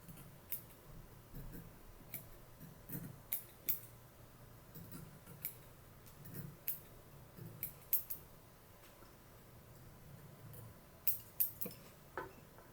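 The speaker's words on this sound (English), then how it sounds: "I'm going to trim up our butt ends." Scissors snip bucktail butt ends at a fly-tying vise, a quiet run of sharp, irregular clicks scattered over about thirteen seconds with no talking.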